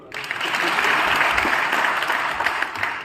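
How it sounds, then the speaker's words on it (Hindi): Sustained applause from a crowd at a Gurjar youth conference in Rajasthan, a dense, steady clatter of many hands clapping that starts abruptly and holds at a fairly loud level throughout. "ताली बजाइए इनके लिए।"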